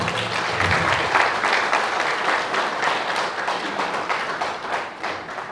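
Sustained, loud audience applause at the official launch of an accountants' club in Senegal, a dense even roar of many hands clapping throughout.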